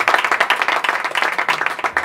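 A live audience claps and applauds briskly at a Spanish-language boxing talk show, a dense, close run of handclaps that keeps going without pause.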